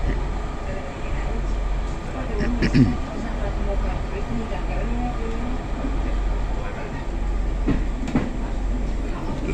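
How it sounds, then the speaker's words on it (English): A train rumbles along the rails with a low steady drone and occasional clanks, while a person speaks nearby. "on the train again, mate"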